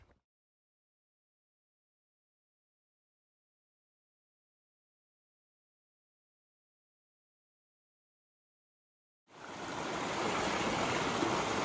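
Rushing stream water after rain on the Appalachian Trail, a steady broadband wash that starts abruptly near the end after long silence and holds loud and close.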